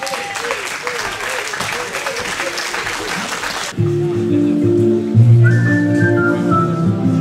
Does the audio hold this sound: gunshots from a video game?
no